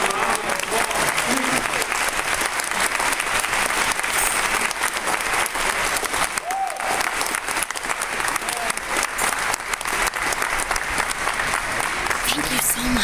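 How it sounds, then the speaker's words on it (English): Sustained, loud audience applause for a chorale that has just sung in a historic hall at Tremont Temple, a dense wash of clapping that continues steadily throughout. "Give them another round of applause."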